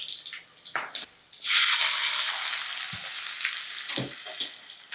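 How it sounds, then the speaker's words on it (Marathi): Chopped onion and garlic hit hot oil while cooking spicy brinjal (khara wanga), breaking into a loud, close sizzle after a few soft kitchen clatters, then frying steadily with stirring noises until the end. "हलकासा बदामी रंग येईपर्यंत कांदा चांगला परतून घ्यायचा"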